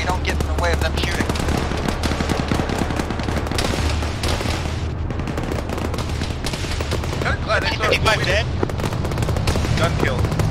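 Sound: gunfire in the video game Arma 3

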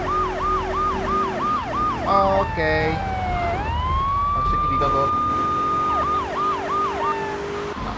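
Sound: police sirens in the video game GTA 3

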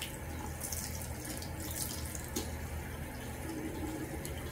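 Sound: running water rinsing soap out of hair

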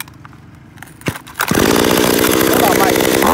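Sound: Echo 362 chainsaw engine test-started and running

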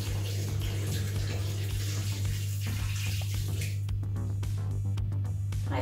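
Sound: pouring hot water

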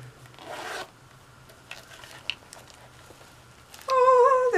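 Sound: gold zipper on cosmetic bag being opened

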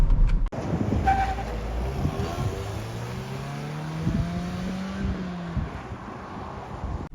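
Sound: Daewoo Lanos with Sens 1.6 engine driving off onto road

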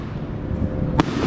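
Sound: fireworks exploding on July 4th in LA

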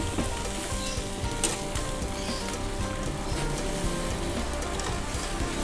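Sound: pork intestines sizzling while grilling

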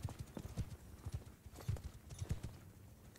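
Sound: horse hooves in video game Mount & Blade II: Bannerlord

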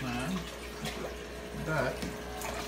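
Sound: water being poured into a fish tank

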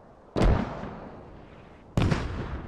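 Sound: mortar fire in the video game Squad

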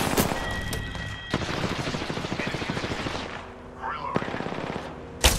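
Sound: gunfire in the video game Apex Legends

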